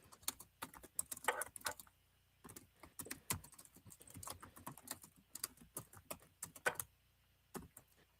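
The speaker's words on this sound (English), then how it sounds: "Can you hear that typing?" Typing on a computer keyboard: quick bursts of light, close clicking keystrokes separated by short pauses, fairly faint and with no talking.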